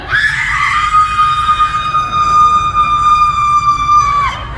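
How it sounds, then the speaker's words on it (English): A woman lets out one long, piercing, sustained scream at high pitch, loud and close, breaking off abruptly at the end. "Let's all hear how you would scream!"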